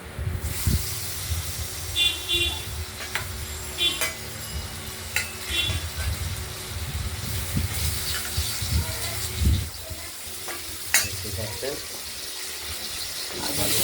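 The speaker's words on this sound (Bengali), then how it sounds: "আলুটাকে ভেজে নিচ্ছি" Potatoes fry in a pan with black cumin seeds while fish curry is being made, giving a steady sizzle under repeated stirring and light utensil clinks close by.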